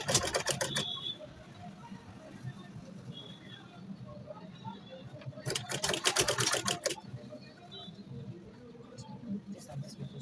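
A sewing machine stitches a shirt collar in two short bursts of rapid, rhythmic clatter, one at the start and one in the middle, while a person talks throughout.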